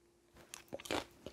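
Close, quiet eating of spicy dry jjamppong noodles mixed with tuna and Cheongyang chili, with kimchi and green onion kimchi on the side: a few soft bites and crunchy chews in short bursts, no talking.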